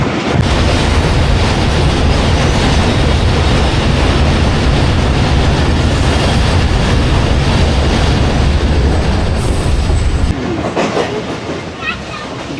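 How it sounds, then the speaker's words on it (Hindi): The Millat Express, a Pakistani passenger train, runs into Hyderabad with a loud, steady roar of wheels and wind rushing past, easing slightly near the end. "ग्यारह बज के 19 मिनट और ट्रेन हमारी हैदराबाद शहर में इंटर हो चुकी है दोस्तों"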